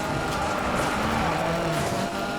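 Engine of a car in Need for Speed Payback revving hard as it accelerates, a steady loud drone with rising tone throughout, with faint tyre noise beneath.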